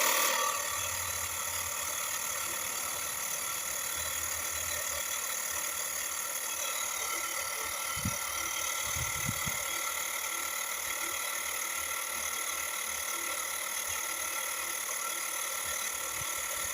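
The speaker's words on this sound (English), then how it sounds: "So my tire here is showing at about 30 PSI, so I'm just going to pump it up a bit." Portable auto air compressor pumping up a car tire from about 30 PSI, a continuous buzzing mechanical drone held steady at close range with a few brief low knocks.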